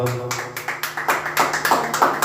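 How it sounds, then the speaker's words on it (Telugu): Congregation at a Telugu church service claps in unison, about a dozen sharp, evenly spaced claps in quick rhythm over a low sustained tone. "ఒకసారి గట్టిగా చప్పట్లు కొడదాం"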